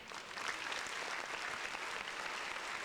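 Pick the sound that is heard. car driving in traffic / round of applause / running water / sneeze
round of applause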